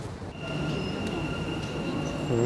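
Dubai Metro train at a station, a steady electric hum and rumble with high whining tones and faint squeals from the wheels, holding throughout.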